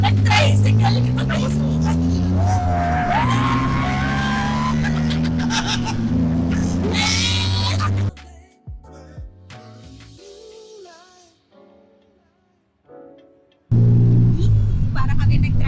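Engine rumble and revving of a tricycle taxi riding through Bangkok traffic, loud and continuous, then dropping out to sparse sounds and near silence before the roar returns; people talk over it throughout.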